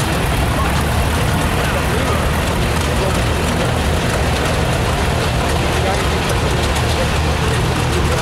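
A vintage farm tractor engine starts and runs at a steam and gas show tractor parade, giving a loud, steady rumbling drone that continues unbroken throughout, close by with outdoor noise around it.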